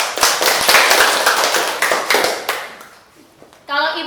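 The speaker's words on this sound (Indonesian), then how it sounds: "tepuk tangan dulu" A standing group claps hands together in a school or classroom-style gathering, a run of loud, fairly rhythmic claps that thin out and stop, with a voice briefly speaking at the end.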